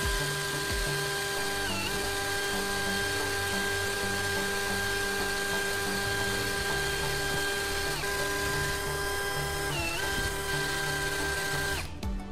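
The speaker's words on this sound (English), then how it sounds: "Now, I attach the hard core of the battery to the drill head." A steady, high-pitched electric drill whine runs throughout as it grinds a battery carbon rod to a point, dipping briefly in pitch a few times as the bit meets resistance, then stopping near the end.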